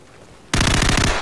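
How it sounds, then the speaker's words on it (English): Gunfire in Call of Duty 4 bursts in after a half-second lull: a loud, rapid automatic volley of closely spaced shots, close up and alone. "That was terrible shooting."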